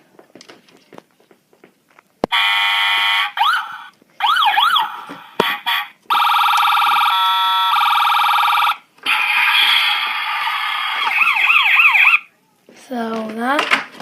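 A toy police jeep's electronic siren plays in loud bursts of wailing and yelping tones, with short pauses between patterns and faint handling noises.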